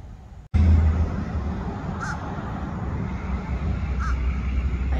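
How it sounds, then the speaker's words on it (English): A crow caws twice with a pause between, moderately distant over a steady outdoor garden background. "I always think this crow is talking to me."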